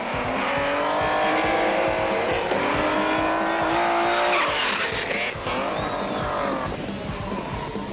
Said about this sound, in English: Kuhn threw the bulky Beamer around with gay abandon, and with the car sideways through most of the course